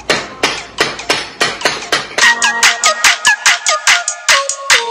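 Sharp, rapid taps of a hockey stick against a puck during off-ice dribbling practice at home, roughly two or three per second, steady and close, with no voices.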